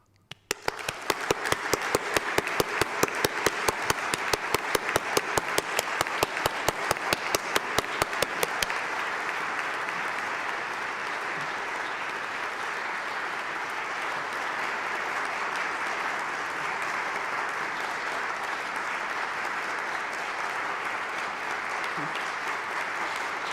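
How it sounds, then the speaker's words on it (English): Audience applause and ovation at a commemorative concert, opening with a burst of loud, dense clapping that then settles into a steady, softer wash of applause continuing for over twenty seconds. "Great ovation."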